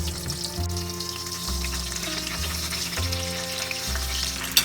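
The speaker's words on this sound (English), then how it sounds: "Fry them both sides evenly." Eggplant pieces coated in salt and turmeric frying in oil for bagara baingan, with a strong, even sizzle up close and a faint clink at the end.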